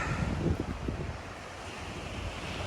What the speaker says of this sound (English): So this is Cavendish Beach.